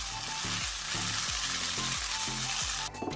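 Batter for a vegetable chicken roll sizzles in a hot pan with a steady, close frying hiss, accompanied by a repeated low rhythmic scraping or tapping that stops abruptly at the end.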